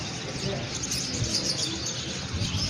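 Pet birds chirp in a busy bird shop in the Lalukhet bird market in Karachi, with a dense, continuous twittering close by and faint background voices mixed in.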